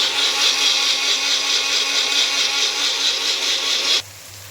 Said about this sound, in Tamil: நம்ம தேங்காய் அதெல்லாம் அரைச்சிட்டு வந்துடும்